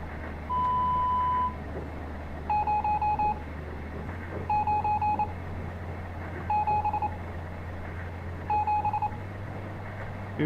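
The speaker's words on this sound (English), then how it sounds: "it seems like it's 5 rapid beeps in succession" Electronic telephone keypad beeps in the game Stories Untold. A single tone is followed by four bursts of rapid beeps, each of about five quick pulses, evenly spaced over a low steady hum, with no speech.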